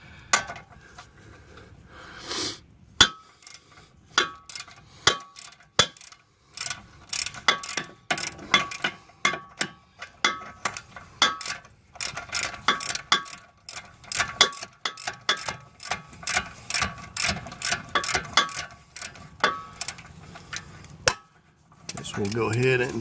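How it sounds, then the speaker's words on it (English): A ratchet with a deep socket turns a suspension bolt under a 2011–2015 Hyundai Sonata during a passenger-side CV axle job, giving bursts of rapid clicking pawl ticks close by, with a person talking in between. "I'm just using a deep socket here."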